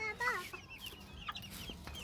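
Backyard chickens cluck and chatter in short, uneven bursts at close range, with a few higher squawks. Faint human voices sit in the background.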